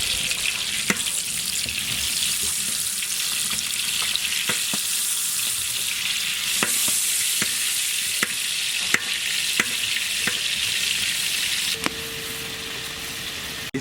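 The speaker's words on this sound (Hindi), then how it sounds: "इसी ऑयल में हम लोग फिर से बटर भी ऐड करेंगे।" Butter sizzling in hot oil in a warmed bowl, a steady broadband frying hiss with scattered clicks and crackles throughout, fairly close and moderately loud, with no talking.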